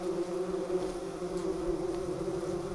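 A bumblebee queen in an abandoned mouse nest in the Bavarian wild gives a steady, low, droning buzz, close and continuous through the whole stretch, with no voices.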